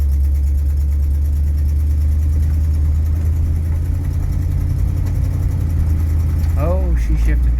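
A 1973 Chevy Cheyenne Super C10 pickup with a 454 engine drones loud and steady from inside the cab, its note dipping and rising as the transmission shifts gears near the end, with talk over it.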